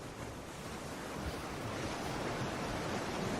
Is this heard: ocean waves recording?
yes